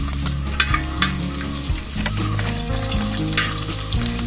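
Garlic sizzling in about 150 grams of hot coconut oil, a steady close crackling hiss with a few sharper pops and the scrape of stirring, no voices.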